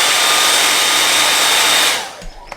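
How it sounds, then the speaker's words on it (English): A hairdryer blows hot air over vinyl wrap, a loud, steady close-up whoosh with a faint whine that cuts off near the end, leaving a couple of soft handling taps. "Take the hairdryer just to heat it up and soften it up a little bit"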